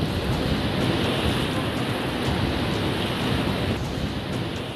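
Floodwaters of swollen rivers rush after heavy rain in Gujarat, a dense, steady roar of churning water with wind-like hiss that stays loud and unbroken throughout.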